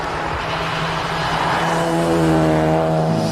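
A GTC race car at a hill climb pulls off the line, its engine droning and building in pitch steadily as it gathers speed, loud and continuous.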